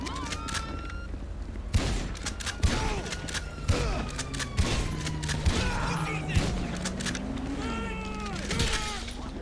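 Shotgun blasts from a video game go off repeatedly as punchy thumps at irregular intervals, mixed with meowing cat-like sounds and other game noise, and a voice talks over it.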